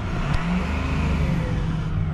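A 6.0L Powerstroke diesel engine idles with a steady low rumble close by, a slight uneven stumble breaking the rhythm briefly, continuous throughout with no voices.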